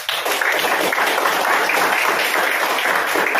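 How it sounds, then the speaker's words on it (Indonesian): A classroom of students gives steady applause to the Algebra group after their presentation, dense continuous clapping at an even level for a few seconds, with faint voices mixed in. "Nanti kita beri aplaus buat kelompok Aljabar yang telah mempresentasikan"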